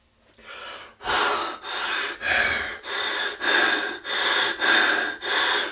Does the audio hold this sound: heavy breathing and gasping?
yes